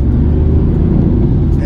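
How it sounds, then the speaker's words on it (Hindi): A BMW i8 sports car accelerates with a dense, steady low rumble and road noise from inside the cabin, someone speaking over it throughout. "एक्सेलरेशन देखिए आप गाड़ी का"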